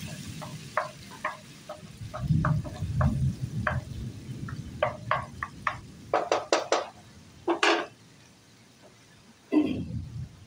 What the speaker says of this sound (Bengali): টমেটোটা কষিয়ে নেবো এবার